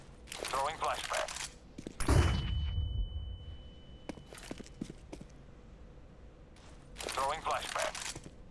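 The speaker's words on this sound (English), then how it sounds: "Throwing flashbang." A flashbang grenade thrown in a video game: a sudden loud burst followed by a sustained high ringing tone that fades out, with brief voice-like chatter and other game sounds before and after.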